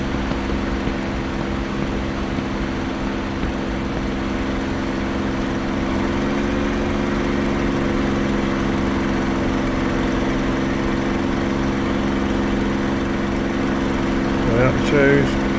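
Steady drone of a propeller fighter engine held at 2,700 RPM during a circuit approach in DCS World, loud and continuous with little change, with a voice speaking over it.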